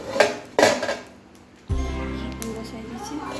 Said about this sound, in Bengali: এবার আমি ঢাকা দিচ্ছি।